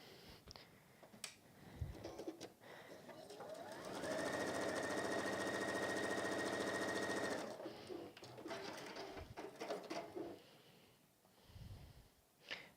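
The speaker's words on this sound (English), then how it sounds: "And I'm going to sew down there again." A sewing machine stitches a fabric seam in one steady, loud run of about three and a half seconds, with soft handling and fabric noises before and after.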